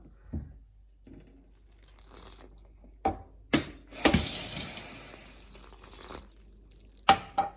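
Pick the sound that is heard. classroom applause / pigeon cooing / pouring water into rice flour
pouring water into rice flour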